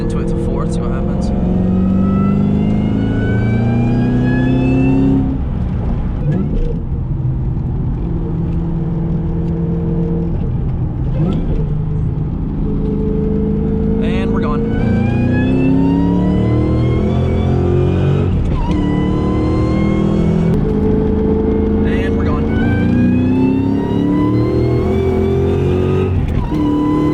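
A cammed, Whipple-supercharged Terminator Cobra pulls hard through the gears, its loud engine and supercharger whine climbing in repeated rising sweeps with brief drops at the shifts, heard from inside the car while people talk over it.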